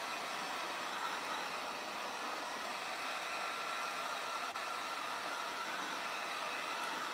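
A heat gun blows over paint to dry it, producing a steady, loud, continuous hissing whoosh that holds even from start to finish with no voices.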